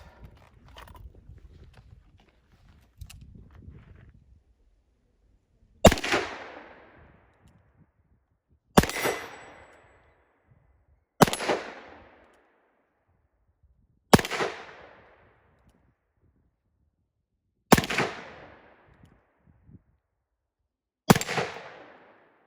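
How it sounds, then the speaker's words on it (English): Six loud, sharp shots from a .357 Magnum Colt Python revolver, fired one by one a few seconds apart, each a crisp crack with a decaying ring. Soft handling noises come just before the first shot. "there's 6 shots through the 357"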